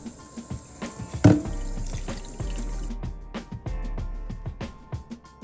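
Raspberries are washed in water, giving soft splashes, drips and trickling with occasional light knocks, up close and fairly quiet, with no talking.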